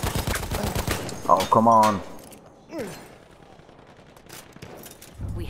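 Battlefield 1 gunfire crackles in the opening seconds, mixed with game noise and a voice speaking over it, then fades to quieter ambience before a brief burst returns at the end.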